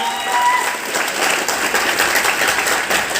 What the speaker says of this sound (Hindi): मैं चाहूंगा एक बार जोरदार तालियां उनके लिए भी होनी चाहिए।